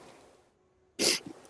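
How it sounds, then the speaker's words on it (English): A single sharp human sneeze bursts out loudly up close after a quiet moment, followed by a short exhale. "I'm going to sneeze."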